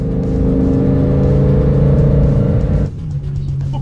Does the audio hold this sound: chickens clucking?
no